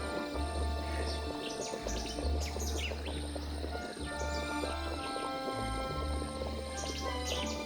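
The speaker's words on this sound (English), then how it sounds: "That's a lot of birds." Birds chirping and tweeting in the fantasy strategy game Heroes of Might and Magic: Olden Era, steady bright calls over a continuous low game ambience and music, with no talk.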